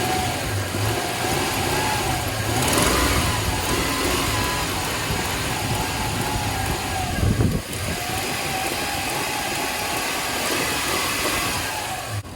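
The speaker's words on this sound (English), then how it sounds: "Let's give it a little throttle here" Toyota Land Cruiser 100 Series engine with a freshly changed belt, running loud and steady close by, briefly revved once midway, with a broad mechanical roar and no voices.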